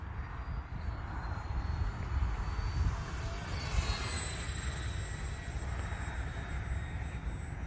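An Arrows RC Bearcat model airplane drones steadily overhead, a continuous engine whine that rises and shifts in pitch as it passes, moderately loud with no talking.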